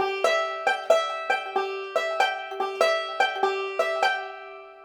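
Bright plucked banjo notes in quick rolling patterns, a short hammered figure (hammer roll) followed by two steady forward rolls, played alone and fairly close.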